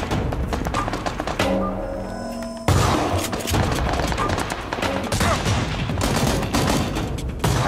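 Gunfire in the video game PUBG, a dense run of rapid close shots and booming impacts that continue almost without pause, with a brief lull before the firing resumes loudly.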